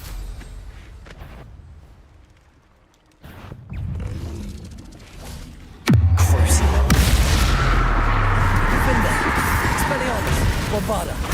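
A Bombarda explosion spell in Hogwarts Legacy erupts with a sudden loud boom, then a roaring rumble of debris and blast noise that continues. Quieter game sounds and a voice come before it.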